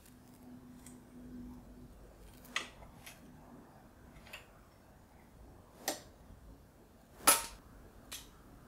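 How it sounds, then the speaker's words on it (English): A paperclip picking the latching mechanism of a 7-pin tubular lock: sparse, sharp metallic clicks and snaps, close and fairly quiet, spread irregularly with gaps between them, the last ones the loudest, and no speech. "someone can attack the latching mechanism with a paperclip"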